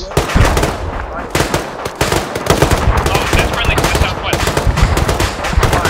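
Close, loud bursts of machine gun fire during an assault on an airfield, rapid overlapping rattles with brief gaps, shouted voices mixed underneath.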